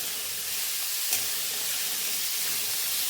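Sweet potato tamarind chutney fries and sizzles in a pan while being stirred, making a steady broadband hiss with no speech.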